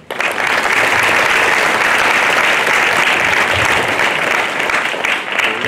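Audience applause at a high school retirement ceremony for a principal, loud sustained clapping from a large crowd filling the room without pause, little talk.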